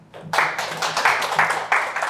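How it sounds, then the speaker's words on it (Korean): An audience at a conference session claps in brief applause as a presenter is introduced, a dense close patter of many hands lasting about two seconds. "박수 부탁드립니다."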